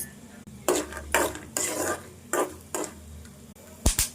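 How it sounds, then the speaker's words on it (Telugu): Mustard seeds, cumin, peanuts and dried chilies tempering in hot oil in a kadai, heard as repeated close scraping stirs with a sizzle underneath and a couple of sharp metal clinks near the end, with no talking. "ఇప్పుడు ఇదే కడాయిలో నూనె వేసుకోవాలి. ఇప్పుడు ఆవాలు, జీలకర్ర, ఇప్పుడు ఇందులోనే పల్లీలు వేసుకోవాలి"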